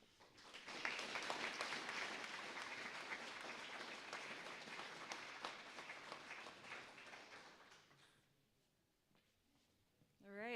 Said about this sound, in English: let's give one more round of applause to our speakers for their inspiring remarks